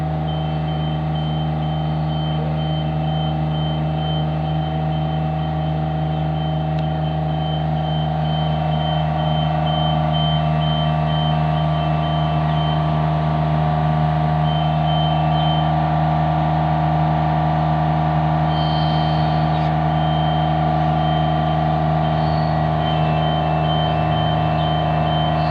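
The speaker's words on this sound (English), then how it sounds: "patrol vehicle is pulling up right in front" A patrol vehicle pulls up out front at sunrise in Australia, its reversing alarm sounding as a steady run of regular beeps over a constant engine drone, moderately distant and without talk.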